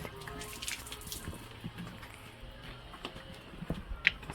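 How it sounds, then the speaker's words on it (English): Peas being washed under running water outdoors, a steady faint trickle and splash with light knocks and clatters of the peas, plus one sharp clink near the end, with no talk. "So I'm going to wash off the peas."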